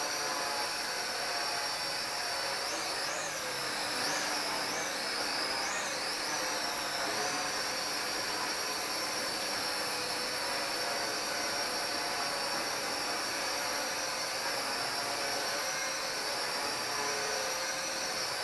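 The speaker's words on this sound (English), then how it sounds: "Sorry if you can't hear me, got the washing machine going." A steady, loud mechanical whir with a high whine runs without pause from a washing machine going nearby, with a few brief chirps early on.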